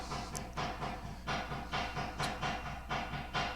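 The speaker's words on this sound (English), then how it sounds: "Sounds like the train's coming now" Faint train rumble with a rhythmic clickety-clack of wheels over rail joints, beating steadily about every half second under a hiss, heard from a distance indoors with no talk.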